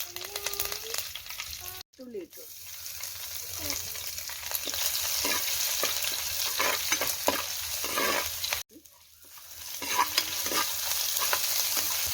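Mustard seeds, ginger and garlic fry in hot oil for a fish curry, a continuous close sizzle with spatter crackles and repeated spoon scrapes against the pan, broken by two short cuts.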